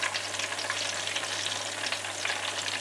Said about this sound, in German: Und die werden jetzt für 10 Minuten frittiert.